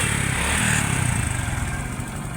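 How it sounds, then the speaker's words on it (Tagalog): A rebuilt Honda XRM 125 fuel-injected motorcycle engine idles close by, a steady low thrumming putter with an even rhythm and no talk over it. "mapansin na to mingaw na yung makina no"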